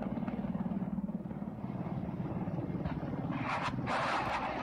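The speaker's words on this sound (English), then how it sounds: "chaff and flares being launched by the helicopters to defend themselves against the missiles" Military helicopters fly low during a wartime attack in Ukraine, their steady rotor thump and engine roar filling the air, with a hissing burst rising near the end.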